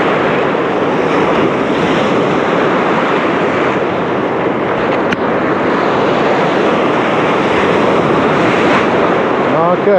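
Sea waves roll in continuously on a shore where sea trout fishing goes on, a loud, broad wash with heavy wind buffeting the microphone throughout and no clear breaks between surges.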